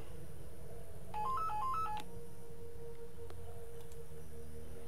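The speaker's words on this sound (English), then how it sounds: "Oh, phone." A short electronic telephone tone sequence, a quick run of stepped beeping notes lasting about a second, faint over a steady low hum of background game ambience in The Witcher: Enhanced Edition.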